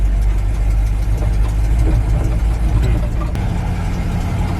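An old Chevy tow truck's engine runs with a loud, steady low rumble that holds at an even level throughout, close to the listener.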